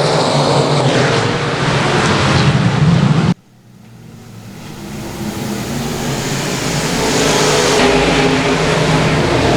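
Race cars roar around the Boothill Speedway dirt track, a loud engine blast cutting off abruptly, then another car's engine swelling back up and building steadily as it comes around.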